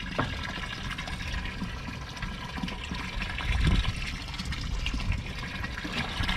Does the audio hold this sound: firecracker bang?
no